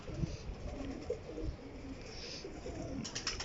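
A golden pigeon coos softly in a few low, throaty pulses against a quiet room background, with no talking.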